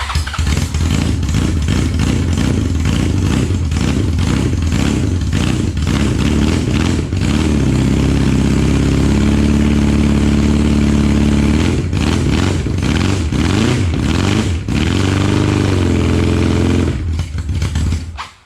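A Kawasaki KZ1100 motorcycle engine runs loud and close throughout, idling roughly with bursts of revving and a clattery, uneven tone, before cutting out near the end.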